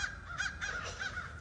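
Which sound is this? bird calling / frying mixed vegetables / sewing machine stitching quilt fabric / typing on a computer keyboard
bird calling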